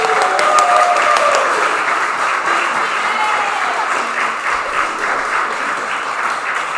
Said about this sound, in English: massive round of applause for FU Tony